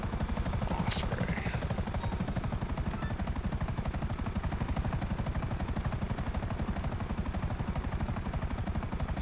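Spinning rotors of an Osprey aircraft in GTA V produce a loud, fast, steady chopping thrum that runs unbroken throughout, with a faint whine high above it.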